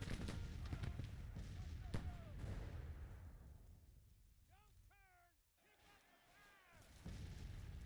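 Civil War infantry volleys in Grand Tactician, scattered muffled rifle shots and distant booms under a battle din, with a brief lull and a few whistling tones before the firing resumes; a voice talks over it.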